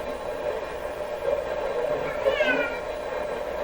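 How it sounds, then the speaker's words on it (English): A pet cat named Peanut lets out a single drawn-out meow partway through, heard over a steady bed of shortwave radio hiss and static. "It's my cat."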